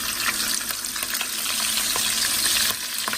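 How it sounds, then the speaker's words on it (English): Fresh salmon frying skin-side down in a pan, a loud, steady sizzle with bursts of crackling spitting all the way through, and no one talking. "we're going to put the fish in and start frying the fish"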